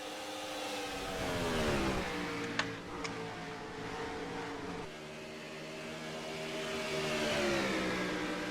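Stock car engine revving and accelerating at Phoenix Raceway in a sim racing video game, a steady droning whine that rises in pitch, drops back and climbs again, continuous and moderately loud.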